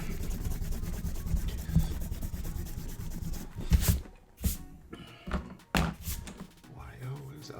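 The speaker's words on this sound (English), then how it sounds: "Alright, eraser." An eraser rubs back and forth on paper during a drawing session, giving soft scrubbing strokes that start as a steady rasp and then break into short separate bursts.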